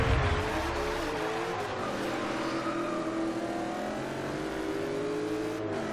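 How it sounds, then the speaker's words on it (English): A 707-horsepower Dodge Challenger SRT8 Hellcat engine revs hard during a Forza Horizon 2 race against a stock GTR. It is a steady, loud, close roar with rising pitch as it accelerates. "let's see how this 707 horsepower Hellcat will do"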